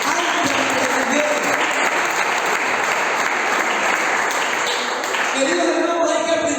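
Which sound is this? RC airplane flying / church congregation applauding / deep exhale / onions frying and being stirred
church congregation applauding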